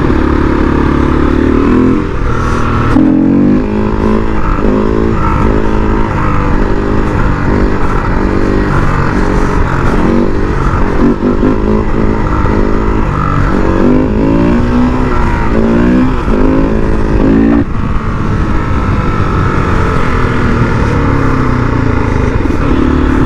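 Supermoto motorcycle engine drones steadily under way on a street ride, loud and close throughout with rhythmic revving pulses and gear changes, no talk.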